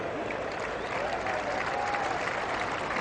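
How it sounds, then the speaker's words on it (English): Crowd applause at an England vs Australia cricket test match in 1989: steady, broad clapping from a large stadium audience, sustained throughout, with a commentator's voice faintly underneath. "The crowd appreciated, even if Taylor didn't."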